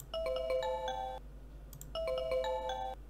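A bright chiming jingle from the Super Mario Sunshine video game plays twice, each a quick run of bell-like tones about a second long with a short pause between, clear and fairly quiet with no talk.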